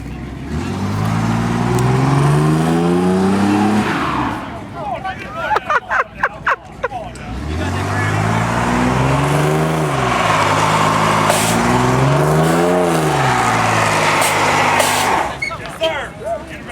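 Car engine at a car show and SPL competition, revved hard in repeated rising and falling surges, loud and close, with a burst of sharp pops in between and people chattering in the background.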